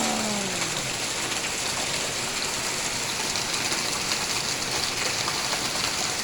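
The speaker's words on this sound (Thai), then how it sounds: "ฝนตกตอนนี้โลด" Steady morning rain falling outdoors, a constant even hiss of drops with a faint passing vehicle at the very start, continuing alone throughout.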